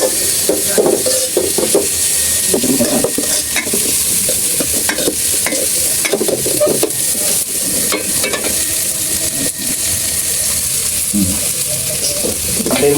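Onions sizzle steadily in hot oil in a pan as a spatula stirs them, with scraping and clinking scattered through a constant, close frying hiss in a simple home kitchen.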